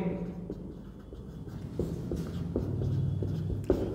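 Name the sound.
writing on paper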